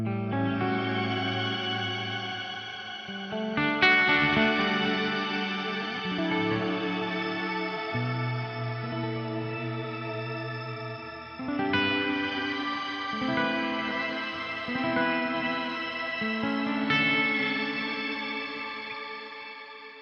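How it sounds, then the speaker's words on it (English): Electric guitar played through a shimmer reverb pedal on a D'Addario XPND pedalboard, sustained chords ringing out with a bright, washy, echoing tail that swells and blooms, with no talking. "You put on like some shimmer reverb."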